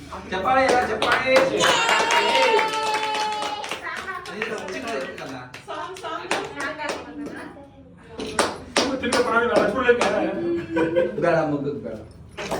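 A group of people clap at a birthday party, sustained rhythmic applause close by with voices, chuckles and someone talking throughout.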